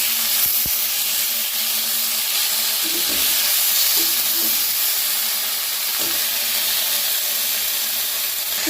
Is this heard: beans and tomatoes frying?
yes